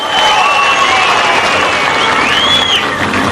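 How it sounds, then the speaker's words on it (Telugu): A large crowd at an election campaign rally in Warangal claps and cheers, a loud, dense, sustained roar of applause with whistles rising above it. "ఇది వాస్తవం అంటే అందరూ చప్పట్లు కొట్టి మీ ఆమోదం తెలియజేయాలి."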